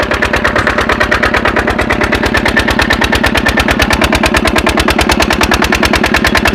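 A diesel engine converted to run on LPG gas chugs loudly and close, a rapid, even train of firing pulses that holds steady, with no talk.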